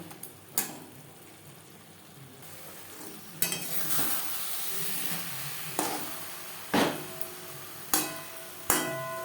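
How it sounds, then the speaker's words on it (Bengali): Omelette being stirred into spice masala in a pan, a soft sizzle broken by sharp, well-spaced knocks and scrapes of a spatula against the pan, about seven in all. "মশলার সাথে অমলেট বেশ ভালো করে মিক্স করে দেব এক দু মিনিট নাড়াচাড়া করে নেব"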